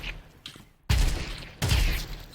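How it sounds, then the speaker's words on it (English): Gunfire from Counter-Strike 2, with two loud, close shots or short bursts after quieter tapping, each blast ringing out and decaying. "So I stop, I adjust, I shoot."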